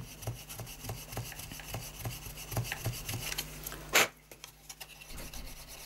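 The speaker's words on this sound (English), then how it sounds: "There's my rubber. I'm just going to rub the base off that." Rubber eraser rubbed back and forth over pencil marks on paper, a rhythmic series of close scratchy strokes ending in a louder brush-off.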